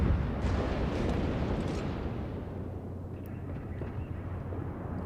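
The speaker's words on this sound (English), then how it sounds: "And that's the last salvo on that guy." A naval gun salvo from a warship in World of Warships opens with a heavy, booming blast, then a long, deep rumble fades out over several seconds.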